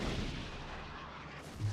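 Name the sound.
Minekaze destroyer guns firing in video game World of Warships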